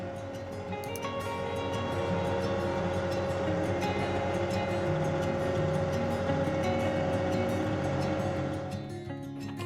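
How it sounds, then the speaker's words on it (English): A tractor with a front bucket attachment moves a trailer around a property, giving off a steady, droning engine rumble with a sustained mechanical hum that stays fairly loud throughout, without speech. "How about moving trailers on your property? Look at how simple it is using the front bucket attachment."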